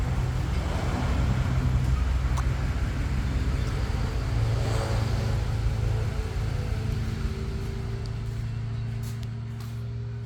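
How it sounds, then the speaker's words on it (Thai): A motorcycle rumbles in close by, its engine note steady and fairly loud throughout, with a low droning hum and no talk over it. "อ๋อมอเตอร์ไซค์ใครมาวะ"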